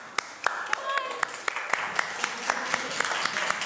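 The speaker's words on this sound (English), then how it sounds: "Give them a round of applause, everyone." Audience applause at an awards ceremony for search marketing, a steady patter of many hands, with a few sharp nearby claps standing out and a voice speaking over it.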